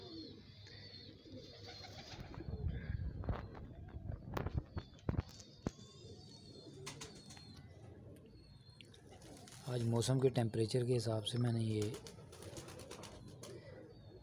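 Pigeons coo softly while pecking at rice biryani, low repeated calls that swell briefly near the end, mostly under someone talking close by.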